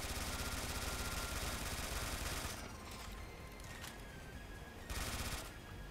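Continuous dense gunfire in the Neptunia fan game Dimension Breaker, a steady rattle of rapid shots that eases slightly and then returns, with no talk over it.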